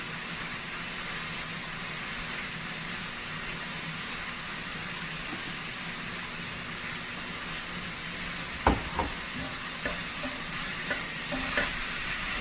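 Garlic, vegetables and aromatics frying in a pan give a steady, soft sizzle throughout, with a few utensil knocks and scrapes from stirring near the end.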